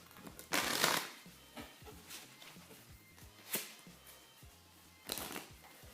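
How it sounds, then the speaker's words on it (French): A deck of playing cards is shuffled in three quick riffle bursts, close and crisp, with quiet handling between them. "on va venir mélanger les cartes"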